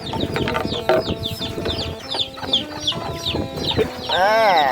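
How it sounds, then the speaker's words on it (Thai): Chickens clucking steadily at close range, with repeated short calls layered over one another and a drawn-out squawk near the end, outdoors on a cold morning as the birds are let out. "เดี๋ยวเชิญไก่ออกมาข้างนอกเนาะ"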